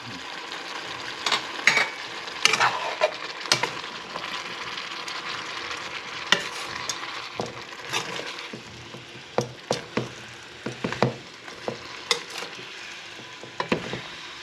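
String beans with pepper cook in a pan, giving a steady sizzle and frying hiss broken by repeated sharp scrapes and knocks of a wooden spoon stirring, close and unvoiced.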